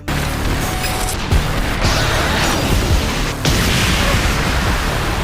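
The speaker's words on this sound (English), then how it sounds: "After the explosion, the mysterious person walked towards Luther" An explosion in an anime scene bursts out as a loud, dense roar that fills the whole clip, with sharper crash hits near the middle and another surge toward the end.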